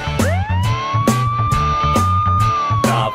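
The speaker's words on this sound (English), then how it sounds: "The police car patrols the town and town" A police car siren wails and rises within a children's song, a loud, sustained tone over a bouncy, rhythmic backing beat with regular percussive hits.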